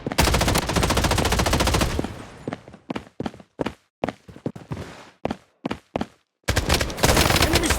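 Rapid automatic gunfire from the Blood Strike shooter game, loud and dense bursts at the start and end with a run of separate sharp shots in between.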